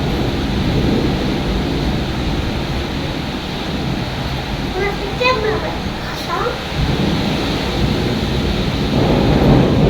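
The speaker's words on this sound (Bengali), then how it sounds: "বিদ্যুৎ চমকাইতেছে কত জোরে জোরে" Heavy rain pours steadily through a thunderstorm, a dense broadband roar with low rumbling thunder swelling beneath it; a person talks over the storm in places.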